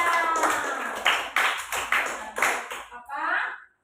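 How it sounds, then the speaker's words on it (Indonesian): Students in a classroom clap rhythmically in a short series of sharp, close bursts, ending with a brief voice as the clapping stops. "Beri tepuk tangan untuk Raya."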